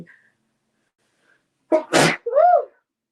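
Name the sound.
sneeze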